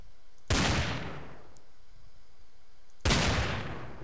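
Two sharp, loud gunshot blasts from a Minecraft revolver mod firing a destructive bullet that knocks out a block, spaced about two and a half seconds apart, each decaying into a short noisy tail with no talking.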